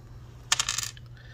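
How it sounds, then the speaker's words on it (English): Dice are rolled and land with a brief cluster of sharp clicking rattles that settle within about half a second, close and clear against a quiet background. "And our last one is roll the dice."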